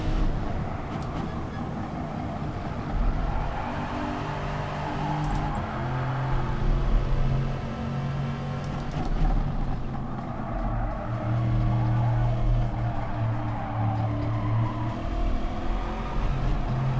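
Race car engine on a lap of Dagon Trail Gardens in a sim racing game, a steady droning roar that rises and falls with shifting pitch as the car accelerates and brakes.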